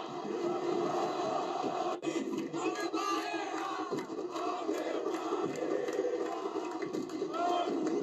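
Brazilian football supporters chanting in unison inside a stadium, a dense, continuous roar of massed voices singing with steady energy and sharp accents, heard from within the crowd.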